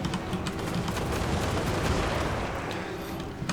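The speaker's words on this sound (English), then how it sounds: "And incoming those grenade shots again." Grenade shots in a Total War: Warhammer 2 battle, a dense, continuous crackle of overlapping bursts and thuds rolling on without pause.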